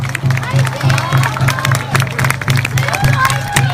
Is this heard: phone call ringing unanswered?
no